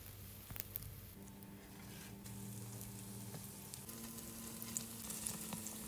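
Pumpkin donuts deep-frying in hot oil, a steady close sizzle and bubbling that runs the whole time with no talk.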